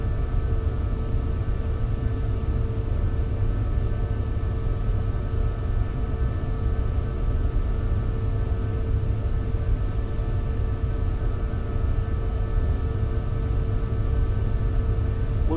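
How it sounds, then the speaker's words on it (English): Flaps extending on a PMDG Boeing 747-400 freighter in the Prepar3D flight simulator, heard as a steady mechanical whir with droning hum and faint tonal lines, continuous and even throughout without talk. "All those sounds from those flaps are amazing."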